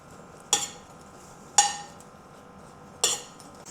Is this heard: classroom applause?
no